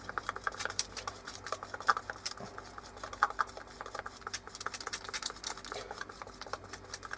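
Resin with a squeeze of hardener being stirred in a small container, a quick, irregular scraping and tapping patter that runs steadily and close up for several seconds with no voices.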